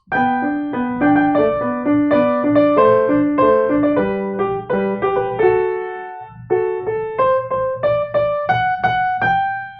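A melodic Mozart piano passage stripped of non-chord tones, steady plain chords moving stepwise at a moderate even pace with no talking, pausing briefly before continuing.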